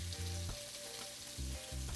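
Redfish (red drum) throat frying in a pan gives a steady, close sizzle with bubbling crackle and a few low stirring bumps throughout, with no voices.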